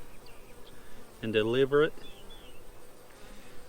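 A steady, close hum of honeybees fills a beehive inspection as the top super is opened, with a person speaking briefly over the buzzing.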